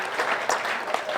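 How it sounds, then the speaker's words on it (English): A burst of clapping from a small crowd at an outdoor sports field dedication ceremony, steady and close, with no voices over it. "let's give a round of applause for our food group"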